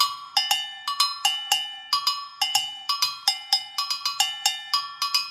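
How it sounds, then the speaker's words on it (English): A pair of Brazilian agogô bells is struck in a lively syncopated pattern, bright metallic clanks alternating between the higher and lower bell, close and loud with no voices. "here's what it sounds like if you play the two bells"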